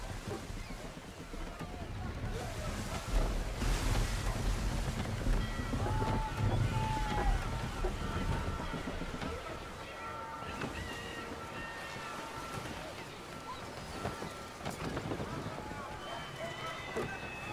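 A sailing ship at sea in Assassin's Creed III, with rushing wind, creaking hull and wash of waves, steady and full, while voices talk over it.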